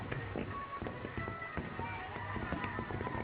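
Fireworks crackle and pop in dense, rapid bursts around a Ravana effigy burning at a Dussehra celebration in Mumbai, a steady busy din with scattered sharp reports and crowd noise beneath.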